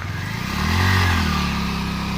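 A motorcycle rides over a rough, stony mountain road on the way to Shey Phoksundo in Upper Dolpa; its engine hums steadily up close, swelling louder midway, with rattling clatter from the rocky surface.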